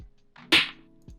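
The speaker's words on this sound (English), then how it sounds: "we have these 2 snares that hit where claps and snares hit all the time" A single snare-and-clap hit from a phonk beat cracks out sharply and briefly, with a faint low tail afterward.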